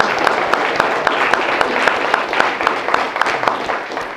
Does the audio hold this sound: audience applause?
yes